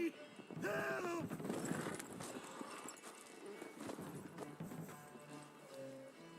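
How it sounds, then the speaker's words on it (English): Horse in The Witcher, with hooves clip-clopping at a steady trot beneath a short shouted voice, then settling into quieter, uneven hoof falls and rustling before fading. "Oh, the poor horse!"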